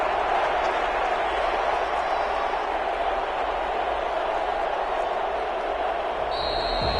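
Stadium crowd noise from a Madden football video game forms a constant broad roar, steady and moderately loud throughout, with a thin whistle-like tone near the end.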